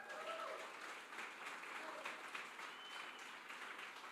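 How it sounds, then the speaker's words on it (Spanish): A church congregation applauding during a Sunday service, a steady wash of clapping at moderate distance with a few voices mixed in throughout. "¿Cuántos pueden darle un aplauso al Señor?"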